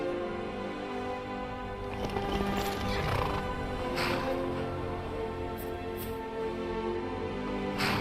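A horse in the video game Skyrim whinnies and clip-clops over rough terrain, the neighs and hooves sitting over a continuous bed of game music and ambience for about eight seconds.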